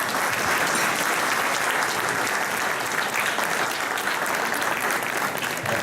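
Sustained audience applause fills a gala evening of a Latin American chamber of commerce in Essex County, honoring Principal Jessica; dense, steady clapping from a large crowd, loud and continuous throughout with no voices over it.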